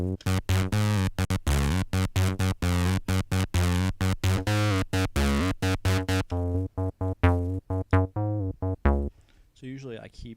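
A TD-3 synthesizer bass line with its distortion switched on plays slowed-down, staccato notes in a steady repeating pattern, loud and up close, thinning to sparser hits near the end.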